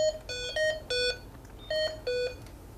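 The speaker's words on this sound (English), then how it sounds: "once it comes on and you hear the little alarm and the yellow light comes on" Low-battery alarm on a Hamilton ventilator: clear electronic beeps in two bursts of quick repeated tones, separated by a brief pause, alone in a quiet room.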